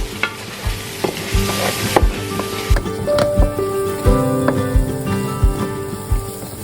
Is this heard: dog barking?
no